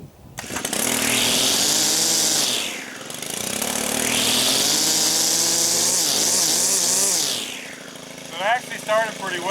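A Stihl FS 90 R 4-Mix string trimmer, started for the first time in a year, runs close and loud with rising and falling engine revs, then someone briefly talks over it.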